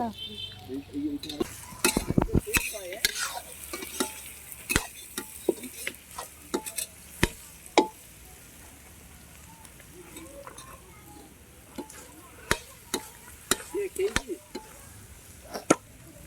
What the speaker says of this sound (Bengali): এবার রান্না করা হচ্ছে চিকেন কারি।